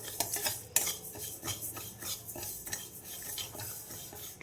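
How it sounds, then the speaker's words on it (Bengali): Mung dal frying in a pan with a metal spoon scraping and stirring through it in steady, repeated strokes, a soft sizzle underneath and frequent clinks against the pan, close and clear with no talking. "ডালটা আমি আগে ভেজে নেব"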